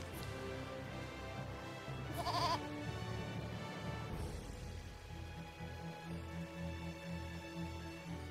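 A goat bleating in the video game Eternal Sonata: one short, wavering bleat over quiet, sustained game music, faint and fairly distant in the mix.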